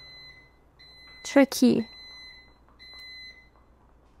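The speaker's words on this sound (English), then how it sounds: "the microwave is also beeping." Repeated high electronic beeps sound in a steady pattern, briefly interrupted by a short spoken remark in the middle.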